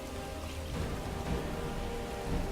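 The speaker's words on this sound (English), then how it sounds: "instead of just having this rain totally destroy what we're playing" Rain in the video game Skyrim, a steady dense patter of falling rain heard close and constant throughout, with no talk.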